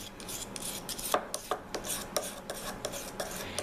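A metal file rasps off burrs and puts a small bevel on a hand tool's edge during sharpening, in close, rhythmic back-and-forth strokes with no talking.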